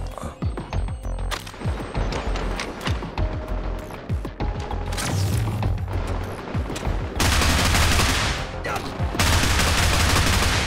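Rapid bursts of gunfire from a weapon in the shooter game Get Even crackle through the scene, with dense repeated shots and loud volleys building toward the end, set against game ambience.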